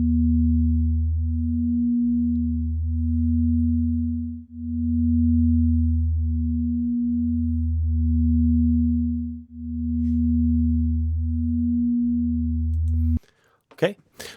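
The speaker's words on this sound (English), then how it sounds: "2 notes, 2 pitches that are kind of floating around on their own in space." Two steady synthesized sine tones, one low and one higher, hover together with a gentle slow pulsing swell for about thirteen seconds, then cut off abruptly into a brief burst of noise.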